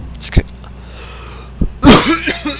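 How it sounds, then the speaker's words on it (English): A man coughs: short sharp bursts near the start and middle, then a louder harsh cough, close and loud, with no words spoken. "it's hard to speak when you have like just cough in you"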